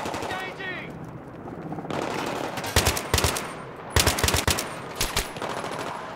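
Gunfire in the Battlefield 3 video game, bursts of automatic fire and sharp shots in clustered rapid volleys, loud and close, with game noise between.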